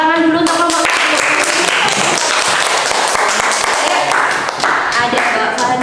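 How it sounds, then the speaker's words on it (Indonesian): Classroom applause for a student group called to the front during a teacher-training session, a burst of dense clapping that runs for several seconds, with a voice speaking at the start. "beri tepuk tangan dulu untuk kelompok 1"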